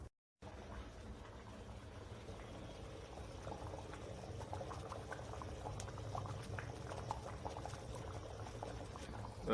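Bean stew boiling in a pot on a stove in Ghana, a steady soft bubbling and popping that runs throughout, close and fairly quiet with no talking.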